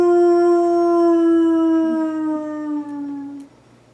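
A storyteller imitates a wolf howl with one loud, sustained vocal wail that slowly falls in pitch and fades away.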